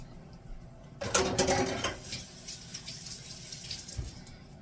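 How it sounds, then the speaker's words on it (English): Water from a kitchen tap splashes briefly over hands being rinsed of juice, a burst of running water in the first couple of seconds that fades to faint dripping and handling noises. "let me wipe this juice, or wash this juice off my hands real quick"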